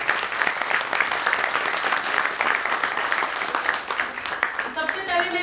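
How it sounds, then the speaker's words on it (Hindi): An audience at a school cultural performance breaks into steady, dense applause, many hands clapping together at moderate loudness, with a few brief voice fragments at the very end. "उससे ज्यादा आप उनकी हौसला अफजाई करेंगे तालियों की गड़गड़ाहट से"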